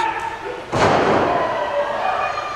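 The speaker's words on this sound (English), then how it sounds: "Oh, big time chop." A loud open-hand chop lands across a wrestler's chest at a pro wrestling event, one sharp slap-thud echoing through the venue, followed by a swell of crowd noise.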